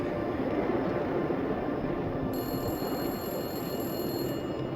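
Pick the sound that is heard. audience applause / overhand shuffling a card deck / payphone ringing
payphone ringing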